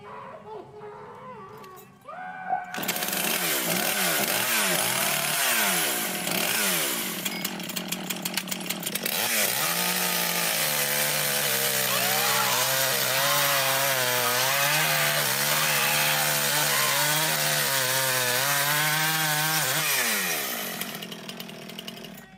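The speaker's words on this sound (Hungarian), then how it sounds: "Egy fűrész." A saw cuts through wood, starting after a short pause and then running in loud, continuous rasping and whining strokes that shift in pitch. People talk and react over the noise.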